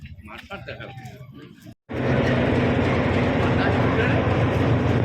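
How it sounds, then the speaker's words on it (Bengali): A train stands at a railway platform in the early morning, its loud, steady rumble filling the air after a brief stretch of quieter background noise. "ট্রেন দিয়ে দিয়েছে প্ল্যাটফর্মে"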